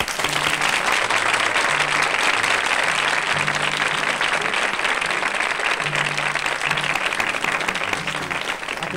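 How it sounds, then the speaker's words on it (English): A large audience applauds steadily to welcome a guest onto the stage, a dense, sustained wash of clapping at full volume throughout, with a faint murmur of voices underneath. "don't forget to applaud"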